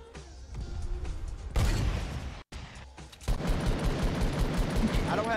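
Fortnite gunfight with loud, dense gunfire and heavy impacts. Bursts come in close succession with a brief gap in the middle, and the shooting carries on steadily to the end.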